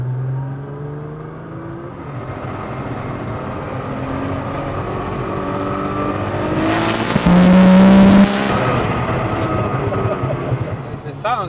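A tuned 1900hp Nissan GT-R running ethanol drives on the street, a loud engine drone building until a sharp, crackling exhaust backfire bang bursts out near the end, with engine noise throughout.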